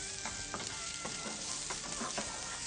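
Finely chopped onion sautés with garlic in a hot pan, a steady close sizzle and hiss dotted with soft stirring clicks, with no voices.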